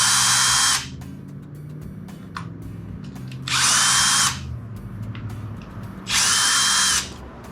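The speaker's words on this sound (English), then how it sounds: "this thing's got 3 screws right there in the front of it that I'm going to take off here" A power drill whirs in three short bursts of about a second each while backing screws out of the front panel of a Champion 4500 watt dual fuel generator, close and loud, with quieter handling noises between bursts.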